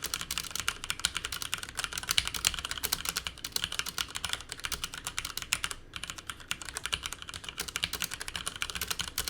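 Fast, continuous typing on a mechanical keyboard with Cherry MX Red switches, crisp clicky keystrokes in quick irregular bursts, close up, with no talking.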